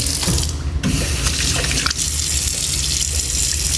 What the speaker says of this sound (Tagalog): So, nandiyan na yung tubig. Sabon.